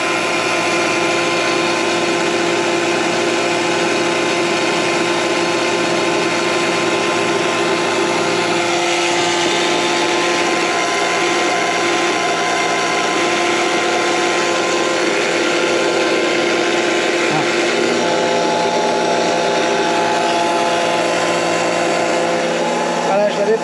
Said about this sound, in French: Et puis bah là on va actionner la pompe et on va voir.